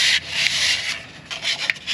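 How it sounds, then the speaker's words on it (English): Close, bright scratchy rubbing of ultrafine sandpaper on an aluminum truck shifter part, a few uneven strokes with a short pause in the middle. "Alright, I got some ultrafine sandpaper here."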